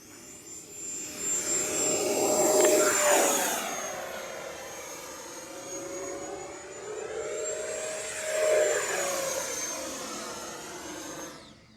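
A Horizon Hobby Viper 90mm electric ducted-fan RC jet throttles up on a driveway, a loud whining roar that swells, eases and surges again with a high, steady fan tone.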